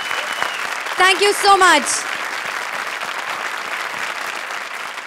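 Studio audience applause on a comedy show, a steady wash of clapping running throughout at moderate level, with a host briefly speaking over it near the start.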